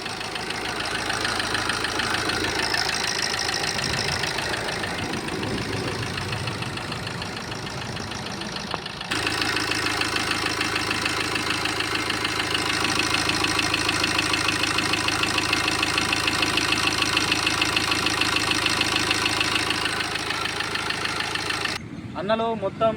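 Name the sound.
Tata Vista Quadrajet 2012 car engine started and idling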